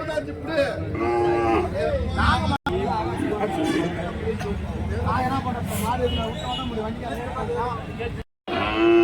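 Cattle lowing at a busy Krishnagiri cattle market with native cows and calves, several loud moos rising over a constant background of crowd chatter and someone speaking nearby.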